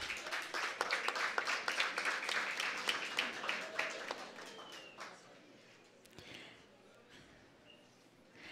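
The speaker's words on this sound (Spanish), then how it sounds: "a la profesora María Sabina de Jaramillo con un fuerte aplauso" An audience at a regional oratory competition ceremony in Darién, Panama claps loudly and steadily for a teacher, the applause gradually thinning out and fading into quiet room noise with a few scattered claps.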